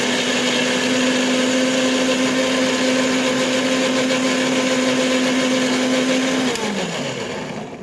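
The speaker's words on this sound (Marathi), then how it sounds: "थोडेसे पाणी टाकून पुन्हा एकदा आपण मिक्सरच्या भांड्यातून फिरवून घेऊ" A mixer grinder blending mango pulp with a little water whirs loudly and continuously for several seconds, its motor pitch steady, then begins winding down at the end.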